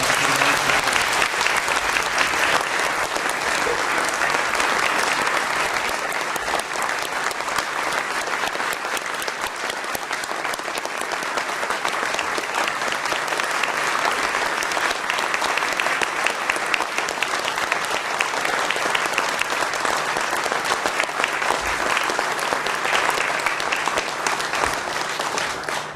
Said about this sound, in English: Let's have one more great round of applause.